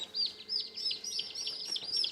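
Newly hatched turkey poults chirp in a brooder, a quick run of high, rising peeps repeating over and over, close and fairly soft.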